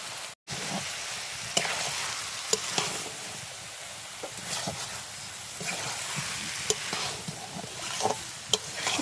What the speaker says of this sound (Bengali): এবার ভেজে রাখা আলুও এর মধ্যে দিয়ে কষিয়ে নেবে